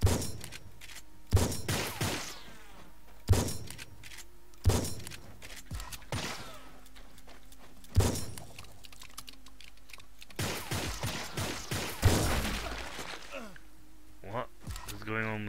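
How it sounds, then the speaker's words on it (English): A pump shotgun in the video game Project Warlock 2 fires about eight loud, sharp blasts at uneven intervals, each with a short ringing tail, amid faint game ambience. "Is this me or the pump shotgun not working?"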